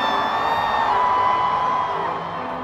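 Concert crowd at a show cheering and whooping, a dense continuous roar with high whistles and yells, loud and close, fading slightly at the end.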